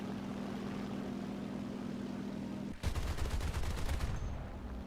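Rapid gunfire from an aircraft carrier's guns in a naval video game, a dense burst of repeated shots that bursts in partway through over a steady engine-like drone and lasts a little over a second.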